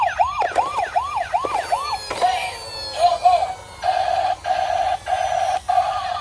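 A toy BMW 3D police car blares its electronic siren close by, first a rapid rising-falling wail, then a steadier repeating tone broken by short gaps, with no talking.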